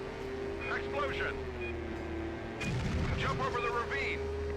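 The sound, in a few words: explosion in video game Stuntman on PlayStation 2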